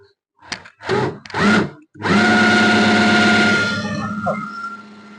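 An electric drill, smelling hot under heavy resistance, whirs in two short bursts, then runs steadily at high speed, loud and close, slowing slightly near the end.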